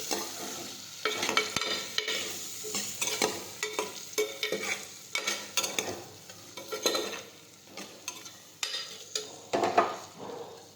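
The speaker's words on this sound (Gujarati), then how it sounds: "હવે આપણે બધા મસાલા છે તે મિક્સ કરી દઈશું." A spoon stirs spices into pointed gourd curry in a cooking pot. Repeated close scraping strokes come at a steady rhythm over a soft sizzle, and there is no talk.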